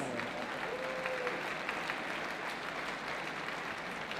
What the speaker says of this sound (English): A massive round of applause for our winners of the Madison Chase.